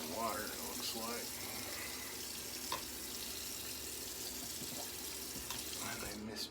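Tap water runs steadily into a sink while shaving lather is worked up with Joseph Smith and Sons soap, a continuous close splashing wash with a brief voice near the start.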